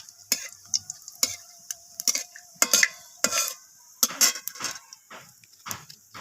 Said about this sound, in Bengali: ফোড়নটাকে একটু নাড়াচাড়া করে নিচ্ছি